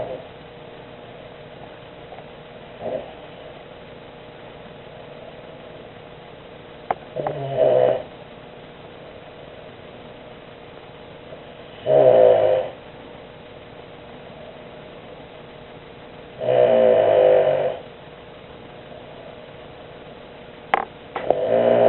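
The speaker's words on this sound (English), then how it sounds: "you're snoring" A sleeping pet snores in loud, separate bursts spaced several seconds apart over a quiet room background. Each breath is a short rumbling rasp, and the snores grow longer and heavier later on.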